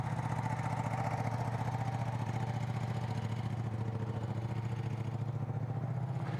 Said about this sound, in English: That's almost a liter bike, 995 cc's.